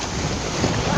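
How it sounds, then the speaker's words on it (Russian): Wind and sea waves at a beach, a steady broadband roar with gusting wind buffeting the microphone, loud and continuous for the whole second with no voices. "Это море."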